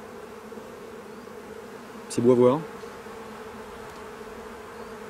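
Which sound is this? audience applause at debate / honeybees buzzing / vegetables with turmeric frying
honeybees buzzing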